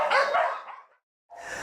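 Dogs at a rescue kennel bark in a close, loud burst that fades, a short silence follows, and then the barking starts again.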